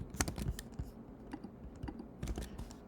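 Typing on a computer keyboard during a database coding session, with bursts of close, crisp key clicks separated by short pauses.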